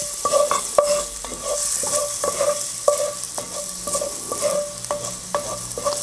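Garlic sautés gently in a Dutch oven over moderate heat, giving a soft sizzle. A utensil stirs and scrapes against the pot in repeated short clinks, roughly one or two per second.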